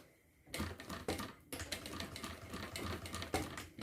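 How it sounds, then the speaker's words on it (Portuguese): A sewing machine stitches a side seam on a retro backpack, running in fast rattling bursts with short pauses between, loud and close with no talk. "Vou fazer uma costura nele de lado, só para prender ele aqui."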